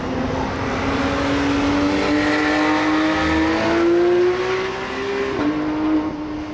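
Engine drone of cars circling a track, a steady rising whine that climbs and dips as vehicles pass, continuous and fairly loud.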